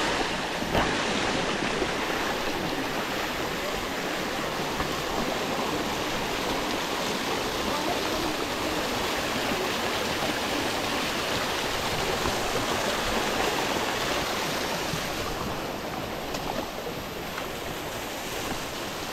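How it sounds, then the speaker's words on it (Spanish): A waterfall and a rushing stream at a convent site in Sajoma, Dominican Republic, give a steady, dense roar of falling and flowing water that stays loud and constant throughout. "Miren lo que acabamos de encontrar. Otra cascada más hermosa,"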